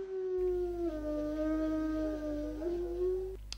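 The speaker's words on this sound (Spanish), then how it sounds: "dejen de, escucharse los hermosos aullidos del lobo" A single long, mournful wolf howl, sustained and wavering in pitch, rising slightly near the end, with a low steady rumble underneath.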